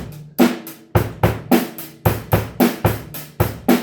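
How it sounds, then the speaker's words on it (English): A drum kit thumps out a steady rock beat up close, with kick and snare hits alternating in an even pulse and cymbal wash sustaining between strikes. "Rock beats sound like this."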